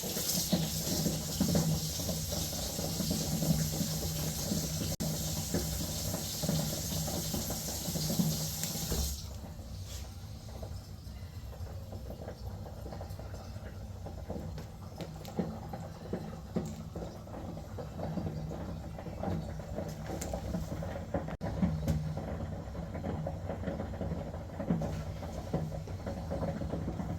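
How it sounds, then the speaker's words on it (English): An old toilet gurgling and bubbling after hot water is poured into it, a continuous watery hiss that drops away partway through into quieter, intermittent bubbling and trickling. "Now you hear that noise, guys? All that bubbling."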